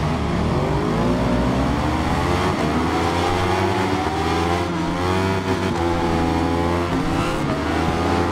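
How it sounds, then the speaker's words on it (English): A Ducati motorcycle engine in the Ride 5 racing game drones loud and continuous, its pitch rising and falling steadily through gear changes with no pauses. "let's take this Ducati out and test it"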